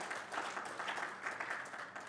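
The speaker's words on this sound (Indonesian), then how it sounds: "Berikan tepuk tanganmu." A congregation at a Sunday church service claps together, a faint, steady patter of many hands heard from a distance, lasting a couple of seconds.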